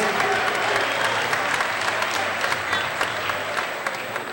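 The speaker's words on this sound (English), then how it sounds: "let's hear it for both these fighters" Steady crowd applause for two fighters after a cage fight, dense clapping from many hands that holds at an even level throughout, with no voices rising above it.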